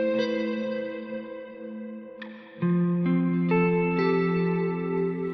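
Electric guitar playing spread triad chords through ambient effects without an octaver pedal, clean sustained chords ringing out one after another with echo and reverb tails, close and steady, with no voices.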